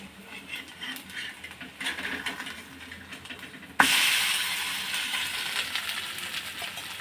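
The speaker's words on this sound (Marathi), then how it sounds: "थोडं थोडं तेल टाकायचं साईडने आणि छान खमंग खरपूस असं भाजून घ्यायचं आहे" Thalipeeth flatbread crisping in a hot pan as oil is drizzled around its edges, a soft steady sizzle that flares suddenly louder partway through and then keeps hissing.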